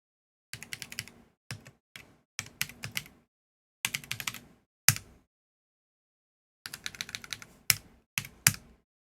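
Computer keyboard typed on in quick bursts of rapid keystrokes separated by pauses, close and crisp with a few harder key strikes, no voices.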